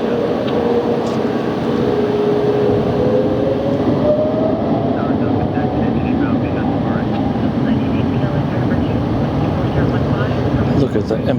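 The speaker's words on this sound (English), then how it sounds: "Look at the empennage dancing about with the sheer power of those engines vibrating about." Airliner engines roar at LAX during plane spotting: a loud, steady, close broadband rumble with a slowly rising whine, continuous throughout.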